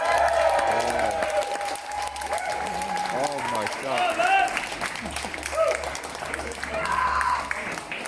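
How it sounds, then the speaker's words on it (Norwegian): A festival crowd applauds the band at North Country Festival, a broad wash of clapping heard under someone talking loudly, with a low hum running beneath. "Vi har en varm applaus."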